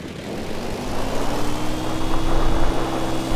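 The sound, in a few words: vehicle engine driving in the video game Homebrew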